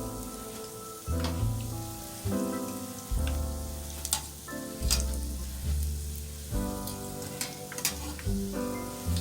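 Canned biscuit donuts fry in hot oil with a steady crackling sizzle that runs the whole stretch, alongside a tonal musical backing with no talking.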